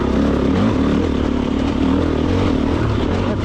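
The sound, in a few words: Stark Varg electric motorcycle accelerating in fourth gear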